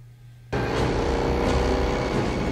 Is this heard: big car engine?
yes